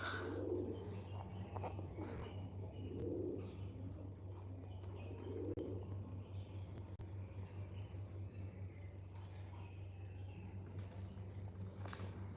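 Soft pigeon coos repeat every couple of seconds at a moderate distance, over a constant low droning hum and scattered small clicks.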